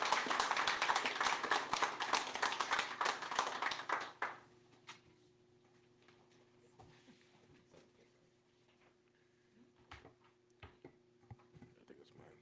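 An audience applauds after a jobs minister's announcement of support for workers at an SEIU event, a loud burst of many hands clapping close by that cuts off after about four seconds, leaving quiet room tone with scattered small clicks.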